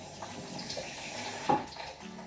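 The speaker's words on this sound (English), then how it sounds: "Let me wash my hands." Tap water runs steadily into a kitchen sink while hands are washed during bread baking, a soft continuous splashing with a brief louder clink partway through, nearby and without speech.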